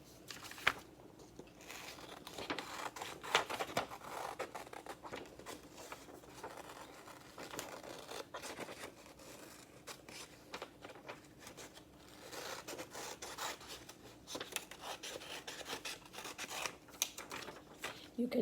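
Scissors cutting a paper shape at a quarantine craft table, soft intermittent snips and paper crinkles spread over the stretch, quiet and close, with occasional speech.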